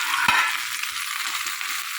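Mustard seeds and onion sizzle in hot oil as a tempering on a wood-fired stove, giving a steady bright crackle with one brief knock early on and no talk.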